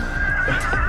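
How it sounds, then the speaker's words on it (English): A novelty horse horn blares a short mechanical whinny, a bright, wavering, neigh-like tone lasting under a second, heard close and loud without speech. "Got a horse horn."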